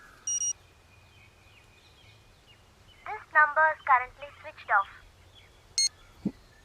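A phone dials a call in a Hindi film scene: a short run of quick electronic tones follows an opening beep, with another beep after it, over quiet room tone.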